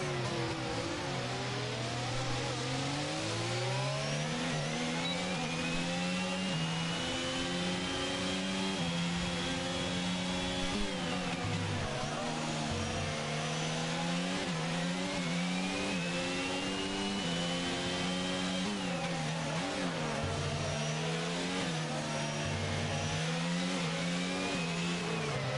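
A Formula 1 car engine in the F1 22 video game at the Singapore GP, its high whine rising and falling repeatedly through gear changes and revs, steady and alone without talk.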